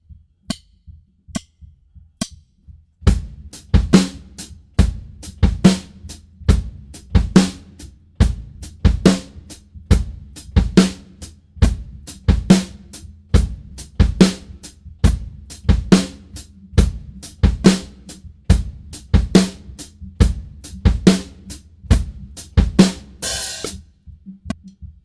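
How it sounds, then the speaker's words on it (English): Drum kit plays a slow beat at 70 BPM, with steady eighth-note hi-hat and backbeat snare on 2 and 4, after a few sparse opening hits; clear, close and alone. "We're going to keep the eighth note hi-hat pattern and the backbeat on 2 and 4."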